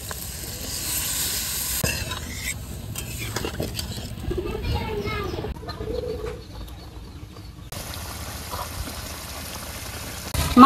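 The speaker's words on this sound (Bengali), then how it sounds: "এখন আমি পানি দিয়ে দেব। পানি দিয়ে দিলাম।" Water is added to fish curry frying in a pan, giving a steady loud sizzle and stirring hiss for the whole stretch, with pigeons or doves cooing in the background.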